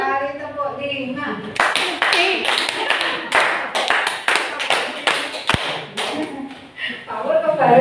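A group claps a five-beat rhythm twice through, a dense run of sharp, loud claps with brief pauses, with talk at the start and the end.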